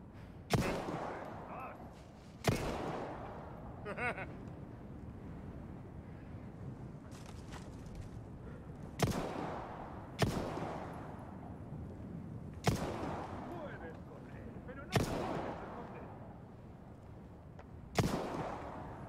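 Single gunshots from the Resident Evil 4 Remake video game, about eight sharp loud cracks fired at uneven intervals, each with a short ringing tail over low background game sound.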